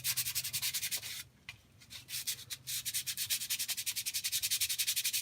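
Steady rhythmic rubbing of sandpaper over a crinkly aluminium foil ball, back-and-forth strokes repeating quickly, pausing briefly before resuming at the same even pace.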